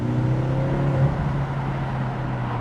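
A BMW M6 engine drones and revs at close range while driving on a dry day, a steady throaty hum that eases slightly as it goes, with no talking.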